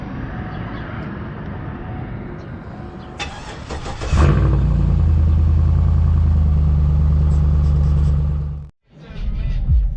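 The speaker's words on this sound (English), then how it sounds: "cold start." A 2008 GMC Yukon Denali engine cold-starts up close: a short starter crank, then a loud roaring catch that settles into a steady deep idle, cut off briefly before the rumble resumes.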